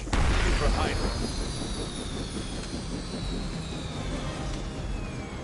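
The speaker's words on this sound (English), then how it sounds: "You've grounded the helicopter." A helicopter in the Marvel's Midnight Suns video game gives off a steady, heavy engine roar with low thudding, loudest at the start and holding dense and unbroken throughout.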